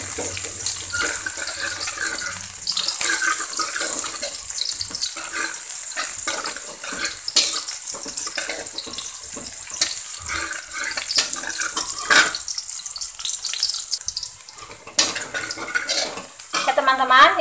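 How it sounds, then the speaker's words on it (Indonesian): Sliced shallots sautéing in hot oil in a pan, a dense, steady sizzle and crackle holding close and loud for the whole stretch, with occasional clinks of a utensil against the pan. "Kita tumis bawang merahnya sampai warnanya kecoklatan ya."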